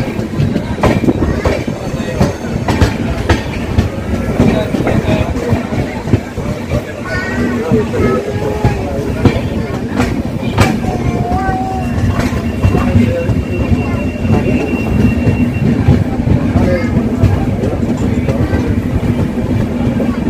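Lalbagh SF Express on the Bangalore to Katpadi line rumbles steadily with rhythmic wheel clatter and occasional squeals, loud and continuous throughout, with people talking over it.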